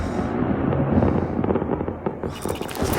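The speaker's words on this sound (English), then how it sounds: "Fireworks." Fireworks burst in a dense, continuous crackle of rapid pops over a low rumble, loud and steady for about three seconds with no talking.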